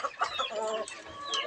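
A chicken clucks in a quick series of short, close calls, with faint background noise around it.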